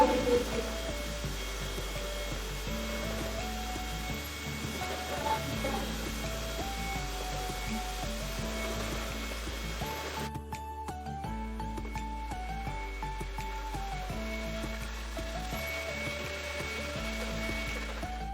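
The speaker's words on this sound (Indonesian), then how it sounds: "Dan ini kita mixer whippingnya ini harus sampai lembab begitu." An electric mixer whips cream for a dessert box, a continuous motor whine with shifting pitch as the speed and load change, running steadily throughout with no talk.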